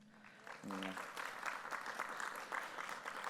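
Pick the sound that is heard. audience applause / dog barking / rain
audience applause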